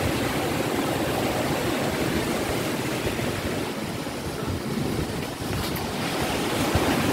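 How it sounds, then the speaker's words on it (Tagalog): Ocean surf rolls onto a beach in Palawan in a steady, full roar of breaking waves, with wind buffeting the microphone throughout and no voices. "May alon, natural yan siyempre."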